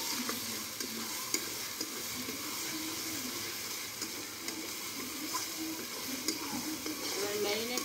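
Spice masala cooked down in oil for traditional mutton kosha, stirred in a pan with a soft, continuous sizzle and scraping, fairly quiet throughout.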